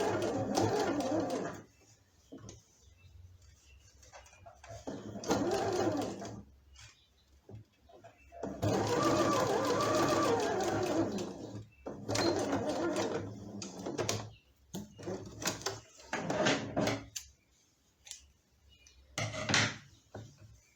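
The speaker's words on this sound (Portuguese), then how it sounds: "Costurar ela aqui." Sewing machine stitching fabric for a baby's elephant pillow, several uneven runs of motor whir broken by clicks, knocks and handling noises, with a few quiet pauses between bursts.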